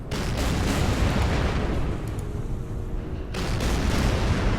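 Battleship gunfire in the Order of Battle strategy video game, heard as a loud, continuous rumbling roar of artillery that dips briefly before swelling again, with no one speaking.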